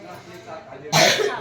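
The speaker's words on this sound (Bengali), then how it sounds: "আমার কাশি হচ্ছে" A single sharp cough breaks out near the microphone after a stretch of quiet murmuring voices, loud and brief.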